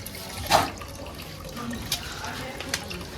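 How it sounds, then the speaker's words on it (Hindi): Chickpeas being washed for goats on a village farm, with water sloshing and splashing in a burst near the start and then softer drips and trickles, fairly quiet and close. "आज फिर से हमारे चने वगैरह साफ़ हो रहे हैं"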